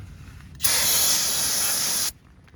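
Spray cleaning the engine bay of a 2001-08 Mercury Mariner or Ford Escape 2.3 after a thermostat replacement, a single loud steady hiss of spray lasting about a second and a half, close and alone.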